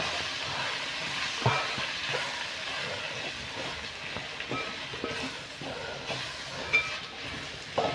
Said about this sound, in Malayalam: ഇനി അതിട്ടൊന്ന് നല്ലപോലെ വറക്കാം.